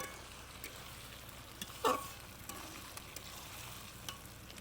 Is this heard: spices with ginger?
yes